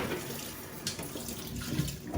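Tap water runs steadily into a kitchen sink while stuffing is washed, a close, continuous rushing splash with a slight rise in level near the end and no voices.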